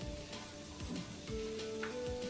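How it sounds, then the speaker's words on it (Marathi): Two large onions, sliced lengthwise, dry-roasting in a pan for a village-style chicken masala, giving a soft low sizzle with occasional scraping and stirring knocks close by. "मसाल्यात बघा सगळ्यात पहिलं कांदा भाजून घेते मी"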